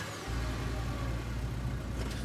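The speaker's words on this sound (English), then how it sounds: "You squeeze into Duke's tiny 2-seater truck, tucking your legs on either side of the gear shift" A small two-seater truck engine in a horror visual novel game starts up with a sudden jump into a steady, loud, close mid-pitched drone that holds throughout.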